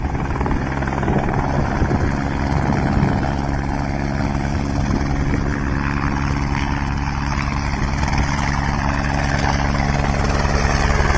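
Helicopter flying after a water rescue, its rotor and engine producing a loud, steady, droning roar with a throbbing beat that holds constant throughout, close by and with no voices.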